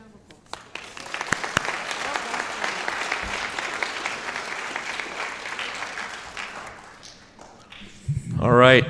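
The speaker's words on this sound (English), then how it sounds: "One more round of applause." Audience applause at a school board meeting honoring student winners, a sustained crowd clapping for several seconds before fading, with a voice starting to speak at the end.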